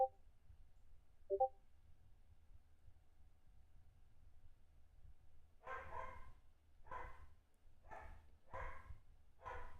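A dog barks five times in a steady series, moderately distant and loud, after a quiet stretch broken by a couple of short, faint higher chirps.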